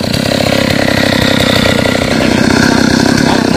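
A chainsaw runs at full throttle cutting into a golden wattle tree standing near a utility pole, a loud, continuous buzzing roar with a steady rapid pulse, close and unbroken throughout, with no talk.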